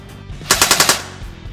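An airsoft gun fires a fast burst of about five shots through a chronograph, sharp evenly spaced cracks standing close and loud above a quiet room.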